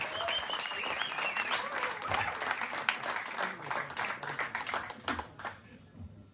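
Concert audience at the Maltfabrikken culture loft in Ebeltoft applauds a guitarist during band introductions, steady close clapping with scattered whistles and voices, fading out near the end.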